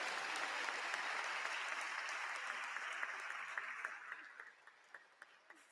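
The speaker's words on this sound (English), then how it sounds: "Please don't let the applause die down" Applause from a crowd at an induction ceremony for newly qualified physician assistants, dense and sustained at first, then thinning to a few scattered claps at the end.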